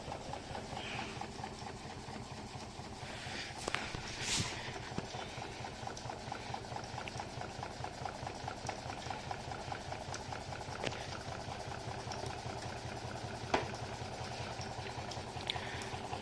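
A small gamma-configuration Stirling engine coupled to a generator runs on a small flame, giving off a steady rapid mechanical chugging and ticking with a faint low hum, close and quiet, with no voices.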